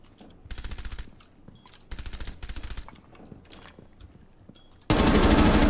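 Gunfire in Rainbow Six Siege: two rapid automatic bursts of about half a second each, separated by quieter clicks and thuds, then a sudden loud, sustained blast of noise near the end.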